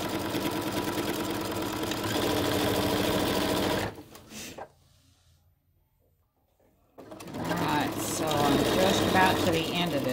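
A sewing machine stitches down a long quilt rod pocket, running close and steady, then stopping for a few seconds of near silence before the whirring stitches resume.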